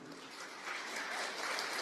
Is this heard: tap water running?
no